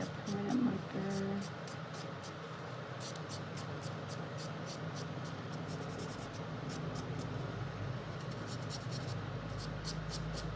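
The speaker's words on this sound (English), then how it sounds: "Just gonna buff away the permanent marker." Steady scratchy rubbing of a nail buffer working permanent marker off a trimmed fingernail, close and continuous with short repeated strokes, a brief voice at the start.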